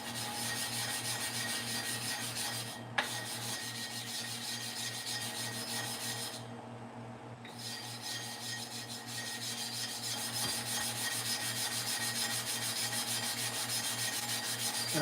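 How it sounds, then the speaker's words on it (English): Steady rasping rub of a clipper blade being worked across an oiled sharpening plate, continuous strokes with one brief pause, close and fairly quiet. "you guys are getting to see me prime the plate for the sharpening of the clipper blades."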